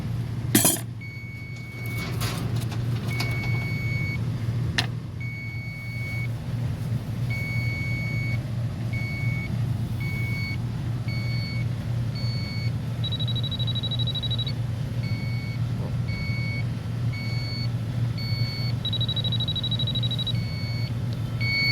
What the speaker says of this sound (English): I'm gonna check those with my electronic leak detector real quick.